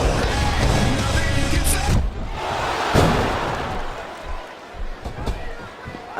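Arena crowd noise in the WWE SmackDown vs Raw 2007 wrestling video game during a Royal Rumble match, a loud, dense roar with thuds and bangs from the ring that eases off partway through, under commentary voices.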